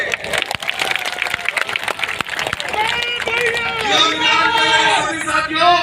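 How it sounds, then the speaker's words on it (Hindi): Crowd at a youth conference political rally in Nava Raipur clapping and cheering loudly, dense claps blending into shouting and a rising babble of voices. "एक बार जोरदार आप सबके लिए ताली बजाइए"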